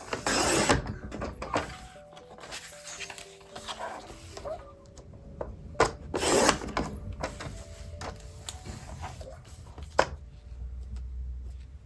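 Card paper is trimmed to size for a junk journal craft, with close scissor snips and papery rustles and handling knocks spread unevenly through the stretch.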